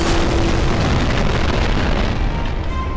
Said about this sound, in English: Let's try a nuke instead.